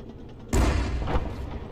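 A single heavy gunshot boom in Arma 3 cuts in abruptly out of quiet and then leaves a rumbling tail that trails off gradually, with no voices heard.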